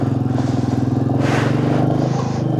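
A motorcycle engine throbs steadily and loudly up close on a Delhi to Leh bike trip near Manali, a continuous rhythmic idle or cruise with no talk.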